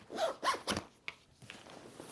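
Zippers on a Matador SEG45 travel backpack are pulled in several quick, close rasping strokes, followed by fainter zip sounds and handling noise.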